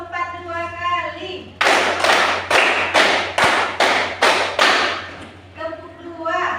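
Classroom clapping game with a group clapping in rhythm, seven or eight loud sharp claps in a steady beat, between stretches of a voice calling out the count.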